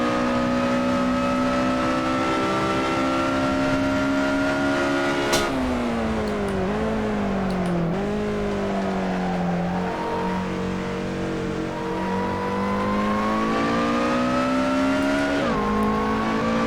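A supercharged Lotus Elise SC starting a lap at Laguna Seca, its engine droning loud and steady from inside the car, rising and falling with shifts and throttle changes through the corners.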